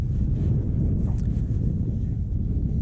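Steady low roaring wind buffets the microphone of a bicycle riding into a headwind on a sunny winter day near an airport in Valencia. The rumble is constant and dense, with no voices.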